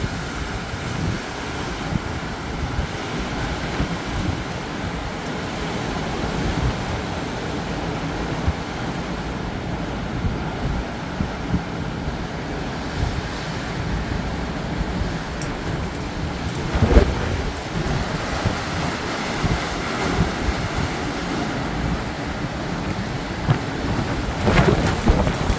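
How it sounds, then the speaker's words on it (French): Storm Nils drives strong, continuous wind gusts at around 135–140 km/h in Bordeaux, a loud, unbroken roar mixed with rain-like hiss, with a few louder buffets and no speech. "ça souffle à 135, 140 km/h"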